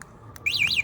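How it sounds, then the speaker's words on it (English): A short, loud warbling electronic alarm tone from an e-bike's remote control alarm, sweeping up and down twice, preceded by a faint click. "They've all got remote control alarms on."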